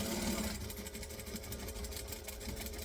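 A sewing machine runs steadily, stitching a quarter-inch seam allowance down a fabric edge, with a fast, even mechanical chatter held close up and no voices.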